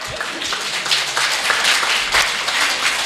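Audience applause at a Hindi humorous poetry gathering, a steady wash of many hands clapping with a few louder bursts, moderately loud and continuing without speech.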